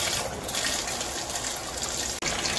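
A portable washing machine fills with water from a running shower, producing a steady, close rushing gush of water that continues without pause for the whole stretch.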